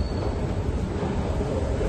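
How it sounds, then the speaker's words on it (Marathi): Delhi Metro train in an underground station, a steady loud rumble of rolling wheels and rail noise that fills the scene without pause. "This is Delhi metro."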